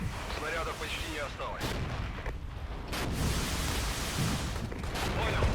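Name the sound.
artillery fire in video game Regiments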